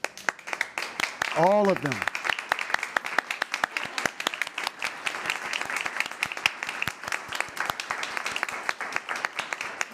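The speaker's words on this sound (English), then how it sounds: "let's give them a round of applause" A meeting audience gives a round of applause for administrative professionals, moderate sharp clapping from a room of people lasting about ten seconds, with a brief spoken remark near the start.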